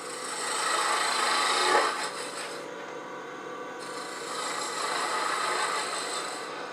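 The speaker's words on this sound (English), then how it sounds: "Now we're going to shape the shoulder down with a spindle gouge." A steady rasping scrape of a spindle gouge cutting wood on a spinning lathe, shaping a wooden owl, close and continuous, swelling and easing as the cut changes.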